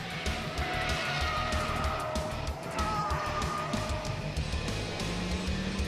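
A Mitsubishi Lancer Evolution lapping a short 1,800-meter, 11-corner test track at full pace, its engine droning loud and constant with faint tire scrubbing, a tonal whine rising and falling across the lap.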